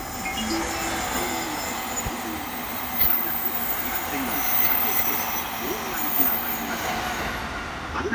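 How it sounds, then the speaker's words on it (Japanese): An express train passes through a station at close range at about 130 km/h, rumbling steadily with a rushing roar and faint wheel clatter, while a Japanese platform announcement plays over it. "下りの特急列車が通過です。"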